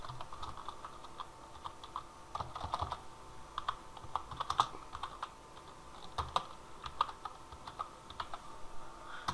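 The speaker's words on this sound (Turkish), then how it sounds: "Ondan sonra buraya da videomuzun başlığını yazıyoruz." Rapid typing on a computer keyboard while a video title is entered, with quiet, irregular clicks and small bursts of keystrokes continuing throughout.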